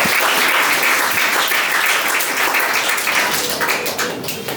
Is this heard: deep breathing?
no